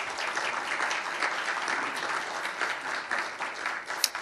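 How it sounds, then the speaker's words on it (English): A seated audience claps after a lecture by a vice minister at a formal conference session, giving steady, moderately distant applause with no break and a single sharper clap near the end. "Can you please give him another big round of applause?"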